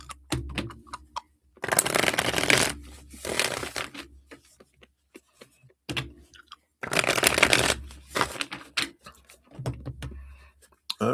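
Reading cards are shuffled in two long riffling bursts separated by sparse taps and card clicks, close and fairly quiet with no talking.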